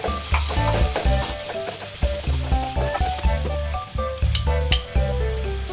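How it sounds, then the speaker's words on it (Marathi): Ground ginger, chili and garlic paste frying in a pan for baingan bharta while being stirred: a loud close sizzle with repeated scraping strokes of a spoon against the pan in an uneven rhythm, and a strong musical backing running underneath. "इथे आपण वाटलेलं आलं मिरची लसूणचा ठेचा. याला छान हलवून घ्यायचं."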